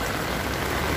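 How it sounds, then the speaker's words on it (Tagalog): Heavy typhoon rain pours down in Hong Kong, a steady, dense hiss of drops hitting the ground and hard surfaces. It is loud and unbroken throughout, with no voices. "Ayan, lakas ng ulan."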